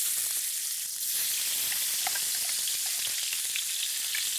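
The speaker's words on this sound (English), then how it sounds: "we need a lot of oil to cook down this spice paste" Spice paste fries in plenty of oil in a black wok, giving a loud, dense, continuous sizzle with small pops and crackles throughout. No one speaks.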